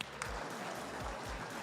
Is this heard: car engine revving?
no